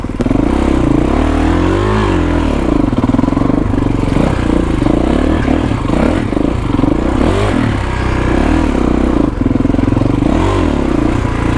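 A 2021 Kawasaki KX450X 450 dirt bike engine revs loud and close, steady throttle rising and falling with a rough mid-pitched roar throughout.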